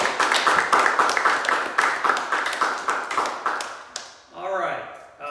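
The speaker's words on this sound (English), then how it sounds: "Another round of applause for Hiromi" Audience applause at an open mic poetry reading, a steady run of hand claps for about four seconds that breaks off as a voice starts speaking.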